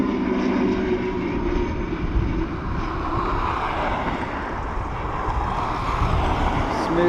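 An ATR turboprop landing at Dublin Airport, a steady broad roar with a low engine drone that holds at a constant level throughout, heard from a distance, with no speech over it.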